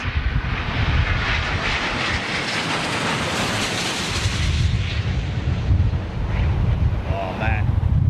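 Airbus jet airliner with Rolls-Royce Trent XWB engines passing overhead, a loud continuous broadband roar with wind buffeting the microphone throughout, fading slightly near the end.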